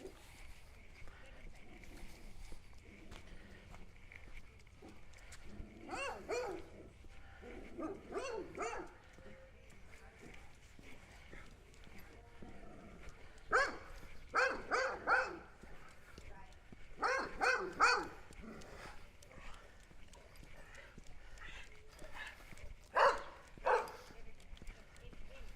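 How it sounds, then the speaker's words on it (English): Grumpy dog barking at passers-by on a coastal walk in Adelaide, several sharp bursts of barks in clusters at moderate distance over outdoor street ambience, with people talking in between. "Grumpy dog."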